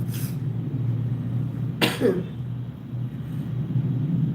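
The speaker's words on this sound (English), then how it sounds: "I need to cough." A short cough bursts out over a low, steady background hum, with a faint earlier burst at the very start.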